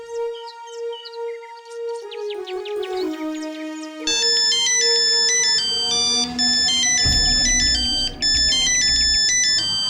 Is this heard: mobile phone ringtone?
yes